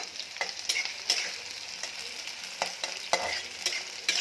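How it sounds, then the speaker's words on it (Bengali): Onion is stirred and fried in a pan with garlic and tomato: a soft, constant sizzle punctuated by repeated quick scraping strokes of a spatula, close and fairly quiet. "এটা আমি পেঁয়াজ দিয়ে দেবো, পেঁয়াজ দিয়ে একটু নাড়াচাড়া করি"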